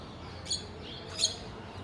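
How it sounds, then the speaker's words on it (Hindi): Birds in a zoo bird house in Indore, with two short, bright chirps about a second apart rising over a low background hum; no talking. "बहुत सारे से पक्षियों की आवाज़ आ रही है जगह जगह।"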